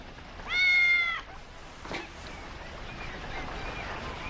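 A cat in an animated Puss in Boots tale gives one clear, close meow early on, followed by quiet background ambience.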